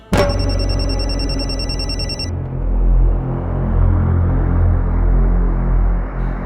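A mobile phone rings in a home with a loud, repeating electronic ring for about two seconds, then stops, leaving a steady low rumble and hum.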